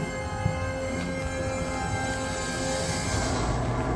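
Moving train in a Mission: Impossible action scene, a continuous rumbling rattle of wheels and carriages with metallic ringing tones, steady and fairly loud, heard alone.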